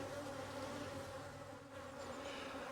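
Honeybees hum steadily at a hive that was requeened after a dud queen, a dense, even drone with a faint tonal whine, continuous and fairly soft, with no talking.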